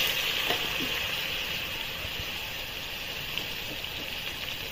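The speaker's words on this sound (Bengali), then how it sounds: "এখন আমড়াগুলো ভেজে নেব।" Hog plums (amra) frying in hot oil give a steady, even sizzle with a soft hiss, continuous and close throughout, with no voices.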